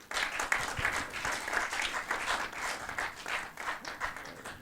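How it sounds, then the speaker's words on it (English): A congregation at a church family session applauds, sustained dense clapping from many hands with gentle swells and no break. "we clap for the Lord Jesus Christ."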